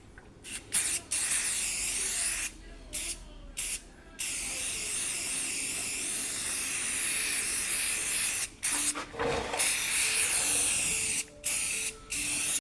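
An aerosol can sprays rust inhibitor onto the bare quarter-panel metal of an AP6 Chrysler Valiant, giving long, close, loud hissing bursts that break off into brief gaps between passes.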